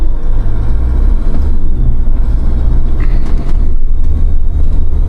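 An Iveco Daily 4x4 truck pulls away in low-range gearing, its deep diesel engine drone and drivetrain rumble loud and close, steady throughout with no talking.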